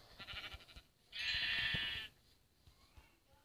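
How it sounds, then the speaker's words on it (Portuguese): Sheep bleating in a video game world being hunted alongside chickens: a short burst of bleating, then a single loud sustained bleat lasting about a second, with quiet game ambience around it. "Tenho que matar 3 ovelhas."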